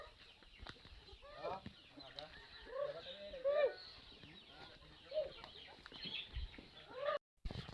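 Chickens cluck and call at a relative's farm, with scattered short clucks and squawks at moderate distance. People talk quietly among them.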